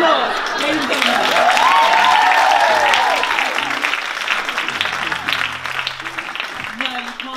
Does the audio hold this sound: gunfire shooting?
no